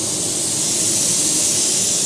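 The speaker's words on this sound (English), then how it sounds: "I'm gonna just give this a quick coat of blender" A Sagola 3300 GTO spray gun laying down a coat of blender, a loud, steady, close hiss of atomized spray that holds unbroken for the whole stretch.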